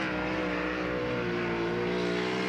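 Sprint race car at a speedway in Ohio, its engine sounding unhealthy as it crosses the line, a loud, steady high-pitched harmonic roar that holds throughout with a slight rising pitch.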